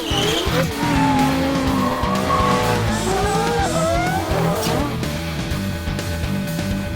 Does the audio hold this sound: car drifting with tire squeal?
yes